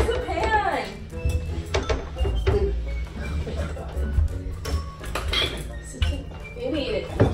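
A metal pan clatters and clinks against dishes and cutlery in a kitchen, sharp knocks scattered through the clip under close, agitated talking.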